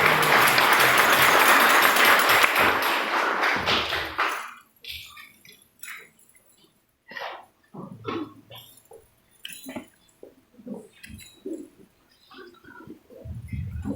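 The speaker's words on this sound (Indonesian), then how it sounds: "Mari kita berikan tepuk tangan, saudara kasih." Church congregation at a Christmas service breaks into loud, dense applause for about four seconds, which then stops abruptly, leaving scattered claps, shuffling and faint voices.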